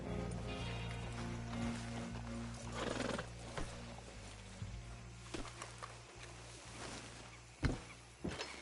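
Horses stand nearby at a hitching spot in a Western game setting, with hoof clops, shuffles, snorts and a whinny over a low steady hum, while faint thuds and movement sounds punctuate the scene.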